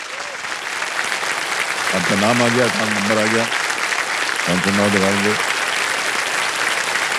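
Studio audience applause on a TV quiz show, steady loud clapping continuing throughout while a host speaks over it, with short musical cue tones sounding twice.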